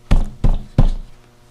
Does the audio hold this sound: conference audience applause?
no